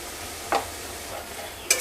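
Ground spice paste frying for chicken biryani, a low steady sizzle with a couple of soft scraping strokes as it is stirred in the pan.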